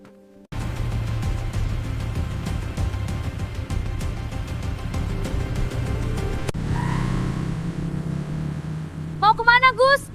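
Motorcycle engine at night, starting up and running steadily with a close, continuous rumble that shifts in tone partway through, ending with a brief higher whine.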